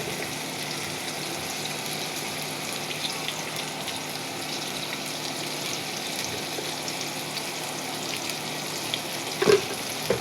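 Spices such as turmeric, cumin and coriander powder frying with onions in a pan for a hilsa fish curry, giving a steady, close sizzle throughout with a brief clatter near the end.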